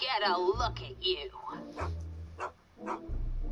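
Einstein the dog in the Back to the Future adventure game whimpers and yips in short, high, wavering cries, close by and repeated several times, with brief deeper barks between them.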